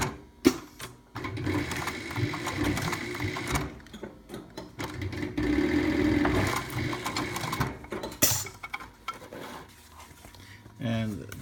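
Leather being top stitched with heavy thread on a SEWPRO 204-PB-2 post-bed sewing machine, whose motor runs in bursts of rapid mechanical whirring and clatter among other workshop sounds.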